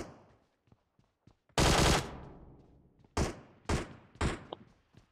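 Gunfire in the mobile battle royale game PUBG Mobile, with a QBZ rifle: a loud sustained automatic burst followed by several sharp separate shots, and faint distant pops before them, with no talking.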